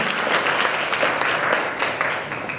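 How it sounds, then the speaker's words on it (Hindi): Applause for a student at a college session on the Shrimad Bhagavatam, a dense, steady roar of many clapping hands from a seated audience, sustained and fairly loud throughout before easing slightly at the end. "नीति के लिए जोरदार ताली"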